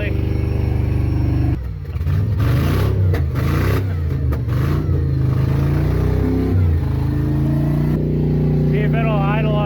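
A Cadillac engine revs hard just after starting at a snowy driveway mud bog event, its loud, throaty drone rising and falling with people talking over it.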